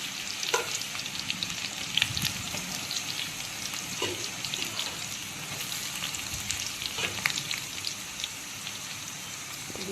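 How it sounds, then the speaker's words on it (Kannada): Chopped onions fry in oil with curry leaves and dried chili, a steady close sizzle with light pattering crackles and occasional stirring scrapes running throughout, no one speaking. "ಇದು ಚೆನ್ನಾಗಿ ಎಣ್ಣೆಯಲ್ಲಿ ಹಸಿ ವಾಸನೆ ಎಲ್ಲ ಬಿಟ್ಕೊಂಡು ಹೊಂಬಣ್ಣಕ್ಕೆ ಬರೋ ತನಕ ಈರುಳ್ಳಿನ ಫ್ರೈ ಮಾಡಿರಿ"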